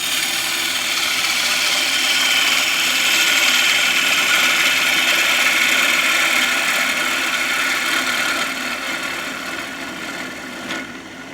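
A wood lathe turns a piece of ipe wood, giving a steady, loud whirring hum with a broad scraping hiss from the cutting tool that eases slightly toward the end.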